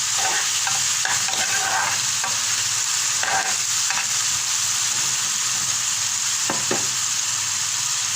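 Onions fry and are stirred in a hot pan for a chicken coriander dish, giving a steady close sizzle broken by scraping spoon strokes throughout.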